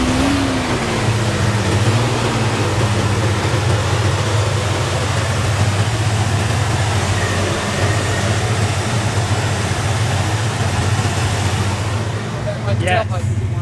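A 1967 Chevelle SS muscle car engine rumbles at a steady, loud idle throughout, with a brief rise in pitch near the start and a faint burst of other noise at the very end.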